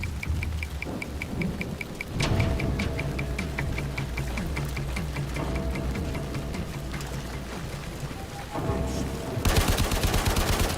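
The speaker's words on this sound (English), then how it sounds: "we'll go with the machine gun" Rapid automatic machine gun fire in the Warframe video game, a steady stream of repeated shots with an explosion-like burst near the end, heard under faint game ambience.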